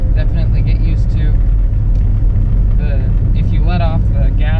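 Deep, steady engine rumble from a big-engined Oldsmobile 442 stick-shift car while driving, with a constant low drone; a person talks over it throughout.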